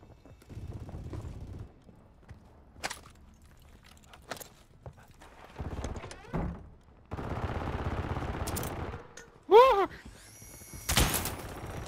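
Enemy gunfire in Call of Duty, sharp bursts and scattered shots popping at mid distance between quieter stretches, with other game effects and a loud burst near the end.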